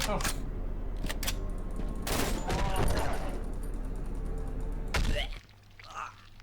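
Rapid bursts of gunfire in the horror video game Cry of Fear crack loudly and densely, then cut off into quieter mechanical clicks and a soft thud.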